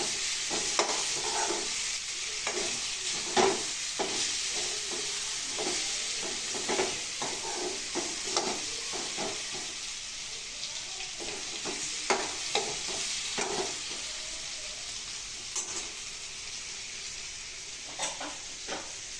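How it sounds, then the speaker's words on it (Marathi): Brinjal is sautéed with cooked onion and tomato in a pan, a steady fizzing sizzle overlaid by frequent close spatula scrapes and clicks throughout. "कांदा आणि टमाटो चांगले शिजल्यावर तर वांगी घालून परतायचं"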